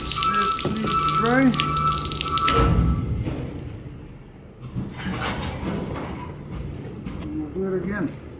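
Tap water runs while paint is washed off a bow case, a steady hiss of flowing water that fades and returns, with a person speaking over parts of it.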